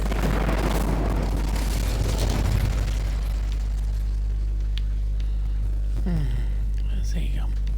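A roaring burst of flame from the Incendio fire spell in Hogwarts Legacy, a loud whooshing blast that surges for a few seconds then fades, followed by quieter game sounds with a voice speaking.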